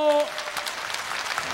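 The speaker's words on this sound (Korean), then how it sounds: "박수 주시기 바랍니다." Studio audience applause on a televised Korean outdoor singing contest, rising just as a held sung or musical tone cuts off, then continuing as a moderate wash of clapping.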